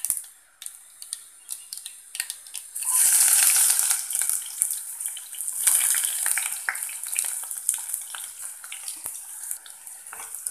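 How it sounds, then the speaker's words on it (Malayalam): Chopped onions hit hot coconut oil with popping mustard seeds, bursting into a loud, close sizzle after a few quiet clicks and taps, then settling into a steady crackling fry with occasional stirring knocks. "സബോള ഒന്ന് നന്നായിട്ടൊന്ന് വഴറ്റിയെടുക്കാം."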